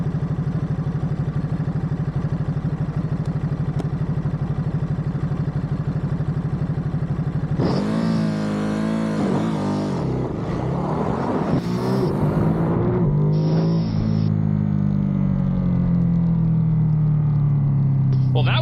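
A Ducati motorcycle makes a launch-control start at full throttle, going from a steady high idle to a loud rising roar through quick gear changes, then easing to a lower drone.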